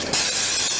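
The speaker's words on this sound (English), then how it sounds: "I'm going to just spray it with a little bit of spray so our waffles don't stick" A single loud, close hiss of aerosol cooking spray on a hot waffle iron, starting abruptly and continuing steadily for under a second.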